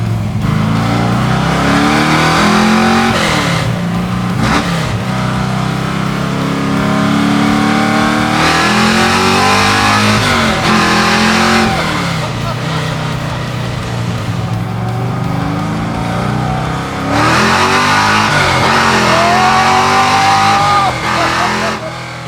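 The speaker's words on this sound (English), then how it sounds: "All right, Dennis, we got this thing fired up" A car engine with a four-speed H-pattern manual shifter revs loudly and continuously, rising and falling in pitch as it accelerates and shifts, close and dominant throughout.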